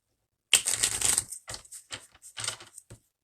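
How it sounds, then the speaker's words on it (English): A brand-new deck of cards, straight out of the box, is shuffled close up: a quick riffling burst followed by a few shorter flutters and snaps, with no talking. "I got to get a good shuffle because these are straight out the box"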